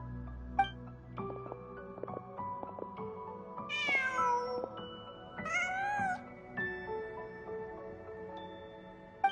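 A cat in Genshin Impact gives two short, rising meows midway through, clear but fairly soft over quiet melodic game music, with no voices.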